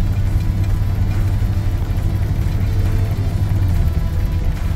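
A Ford F150 Bullnose pickup truck engine, prone to stalling, rumbles steadily and loudly up close during its first drive in years, a constant low drone with no talking.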